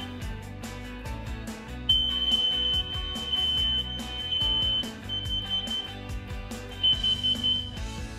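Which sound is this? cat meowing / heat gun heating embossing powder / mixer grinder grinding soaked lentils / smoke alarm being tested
smoke alarm being tested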